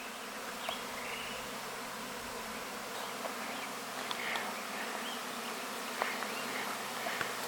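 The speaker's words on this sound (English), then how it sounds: "they're coming out of the hive and it looks like they're getting ready to swarm" Honeybees stream out of a homestead hive on a cleansing flight, making a dense, continuous buzz with individual bees zipping close by now and then and no voices.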